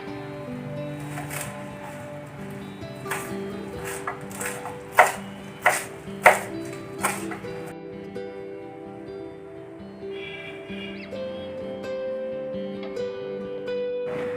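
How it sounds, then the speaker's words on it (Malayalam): A knife chops coriander and mint leaves on a board in a home kitchen, several crisp, evenly spaced strikes rising over a steady background tone before the cutting stops. "നമ്മുടെ മല്ലിയിലും പുതിനയിലും ഒക്കെ കൂടി നന്നായി ഒന്ന് ചെറുതായിട്ടൊന്ന് നുറുക്കി വയ്ക്കണം"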